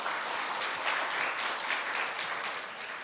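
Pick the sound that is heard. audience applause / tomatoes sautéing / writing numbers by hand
audience applause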